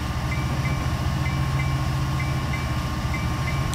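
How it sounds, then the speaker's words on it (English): A train in the game Train Simulator 2013 runs with a loud, steady low rumble and rolling engine drone, with a faint periodic high tone repeating throughout and no speech. "Apparently we're powering that train now."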